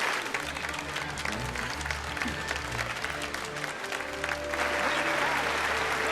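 Dense, sustained applause from a crowd after a speech in the Final Fantasy 12 video game, steady clapping over low game music, swelling slightly louder toward the end.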